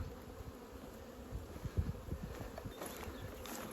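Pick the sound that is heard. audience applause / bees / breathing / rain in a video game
bees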